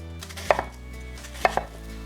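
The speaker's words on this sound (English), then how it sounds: "Now that the onions are cut" A knife chops onions into slices for French onion soup, with two crisp, close thuds on the board about a second apart against a quiet background.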